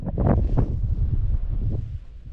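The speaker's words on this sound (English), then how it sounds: "You'll probably see in the video that it's pretty gusty." Gusty wind buffets the microphone on a mountain summit in the Scottish Highlands, a loud low rumbling roar that surges in a couple of strong gusts early on, then eases slightly, with no voices.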